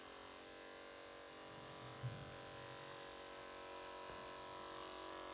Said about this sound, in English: Turn the clipper on, and then snap the blade shut.